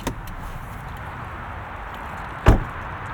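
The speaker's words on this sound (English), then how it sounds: "you can open the door from the key fob" The power sliding door of a 2025 Honda Odyssey, opened by key fob, gives a click at the start, a steady low whir, and then a solid latching thunk near the end.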